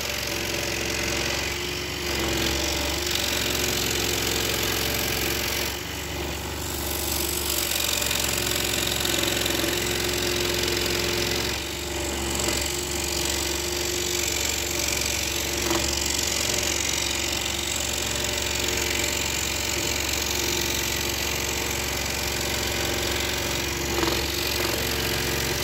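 A scroll saw cuts curves in wood with a continuous loud motor hum and rapid buzzing blade that runs steadily throughout, with no talk.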